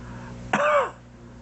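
A single short, harsh cough or throat-clear bursts out close by, lasting under half a second, then quiet returns.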